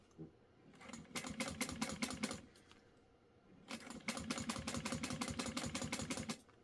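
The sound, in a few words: sewing machine stitching a purse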